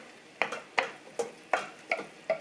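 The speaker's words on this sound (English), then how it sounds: "Go ahead and give it a stir" A spoon stirs a thick taco spaghetti mix of pasta and meat in a pot, six evenly spaced wet scraping strokes, close and fairly quiet, with no voices.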